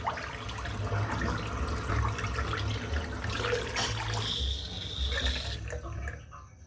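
Hot water runs from a bathroom tap over a puck of Mitchell's Wool Fat shaving soap, a steady close trickle and splash that cuts off near the end.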